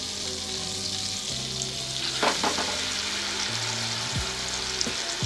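Freshly caught brook trout fry in a pan on first ice in northern Manitoba, a steady moderate sizzle with a burst of sharper crackling midway and a couple of low knocks, no one speaking.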